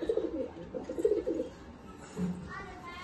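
Pigeons coo softly in a home loft in Chinsurah, giving low throaty burbling calls close by while people talk nearby.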